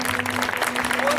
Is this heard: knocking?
no